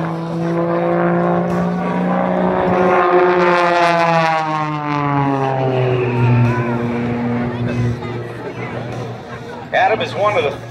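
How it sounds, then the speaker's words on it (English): A loud aerobatic airplane pulls through a hammerhead stall turn and drops into a knife-edge spin at an air force base airshow, its engine note sweeping steadily down in pitch and then climbing again, with a commentator talking over it. "He does the hammerhead stall turn and now puts it into a knife edge spin."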